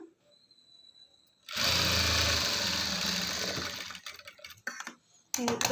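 A sewing machine stitching fabric piping runs in a steady, close mechanical whir for a few seconds, then breaks into short stop-start bursts before a final spurt.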